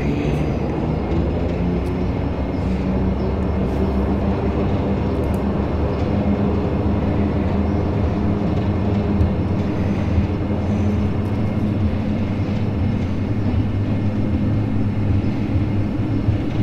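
A Q400 turboprop airliner in a flight simulator game roars steadily through its takeoff roll. The engine noise stays loud and continuous throughout, with no talk.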